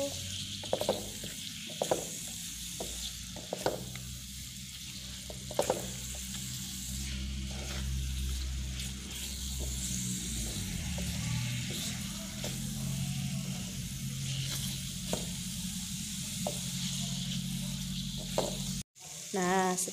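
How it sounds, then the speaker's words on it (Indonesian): Spice paste with bruised galangal and kaffir lime leaves sautéing in a pan for chicken opor, a steady close sizzle punctuated by repeated scraping stirs, ending with a brief clatter. "Kita tumis hingga bumbunya harum dan daunnya layu."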